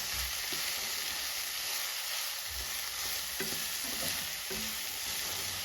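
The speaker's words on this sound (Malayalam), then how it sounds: "നമ്മളിത് ഇടവിട്ട് ഇളക്കി കൊടുത്തുകൊണ്ടിരിക്കണം കേട്ടോ." Tiger prawns and onions sizzle in a pan over low flame while a utensil stirs them in a few soft scraping strokes, close and with no talking.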